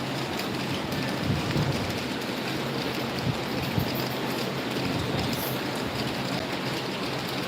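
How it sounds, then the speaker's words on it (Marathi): Steady monsoon rain falls in a village near Khed, Ratnagiri, a constant broad wash of noise with a few soft knocks and low rumbles beneath it, and no talking. "पाऊस पाऊस कुठं थांब की जरा पाऊस थांबू दे ना"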